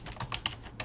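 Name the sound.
typing a search on a computer keyboard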